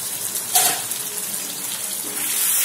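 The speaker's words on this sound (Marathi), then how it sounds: "एकदम थोडं पाणी टाकायचं" A little water splashes into a pan of stuffed brinjal curry, a brief steady trickle against a constant wash of noise.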